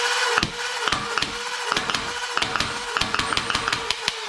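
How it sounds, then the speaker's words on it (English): A Dart Zone Nitroshot Venom Pro foam blaster fires on full auto: rapid, evenly spaced sharp clacks over a continuous whirring motor drone, close and loud, with no talking. "So to fire, we're going to insert our magazine, hold down the Rev Trigger, and pull the trigger."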